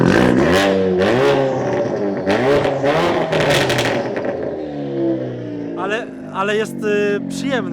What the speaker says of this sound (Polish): porównaliśmy sobie dźwięk i głośność wydechów